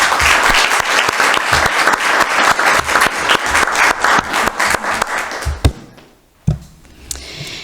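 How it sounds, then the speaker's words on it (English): Applause from the audience at a city council meeting, many hands clapping steadily and fairly loud for about six seconds, then tapering into a few scattered thumps and quieter room noise. "we need to give him a round of applause for just doing an exceptional job"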